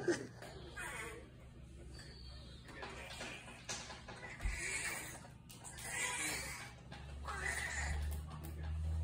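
A person imitates a Donald Duck voice in a home with young children, giving bursts of squawky, nasal quacking vocalizations spread over several seconds, with laughter-like sounds and other voices nearby.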